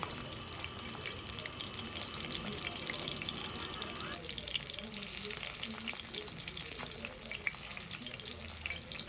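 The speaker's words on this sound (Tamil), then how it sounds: "இந்த மாதிரி ஆயிலை ஊற்றி நல்லா நான் வந்து பொரித்து சூப்பராக ஃபிஷ் ஃப்ரையை வந்து எடுத்துக்கிட்டேன்" Fish frying in oil, Kerala-style meen pollichathu being shallow-fried in a pan, gives a steady close sizzle that continues throughout with faint kitchen noises and occasional light scraping.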